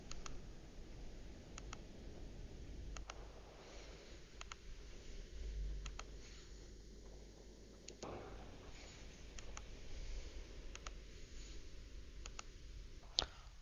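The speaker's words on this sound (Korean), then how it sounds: "짧게 누르면은 바람의 세기를 조작할 수 있고요" Button presses on a Claymore portable fan, a series of sharp, close clicks spread irregularly through the clip over a steady low fan hum, with no talking.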